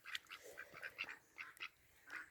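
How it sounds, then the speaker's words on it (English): Garden ducks quacking close by in a quick, uneven series of about a dozen short, nasal calls over a quiet outdoor background. "The ducks are helping."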